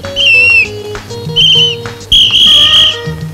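Shrill whistled notes from a person in a Telugu comedy scene, three sustained piercing bursts, the last one longest, heard close and loud over a background music score.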